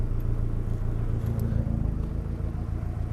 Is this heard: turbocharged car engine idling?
yes